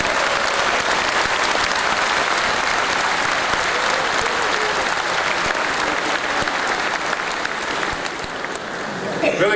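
Sustained applause fills a party electoral assembly hall, a dense, steady wash of clapping from the standing audience that holds loud and unbroken throughout, easing slightly near the end.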